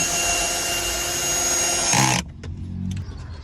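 A power tool whines steadily at close range while driving screws to secure a wooden board for storage shelves behind the seats of a truck, then cuts off abruptly, followed by a few soft knocks and a brief low rumble.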